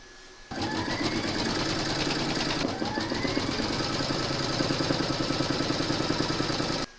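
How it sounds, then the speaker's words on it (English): An embroidery machine stitches a placement outline for batting on a trapunto feather quilt block cushion cover. After a brief quiet start it kicks into a loud, rapid, even mechanical stitching rhythm that runs to the end. "you're going to stitch round number 1, and that's going to give you your placement outline for your batting"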